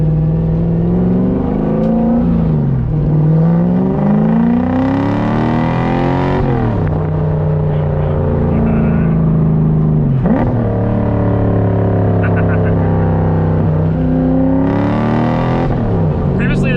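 A drift truck with a new sway bar driving hard through corners, its engine loud and close, rising and falling in pitch as it revs, shifts and backs off, with speech now and then over the noise.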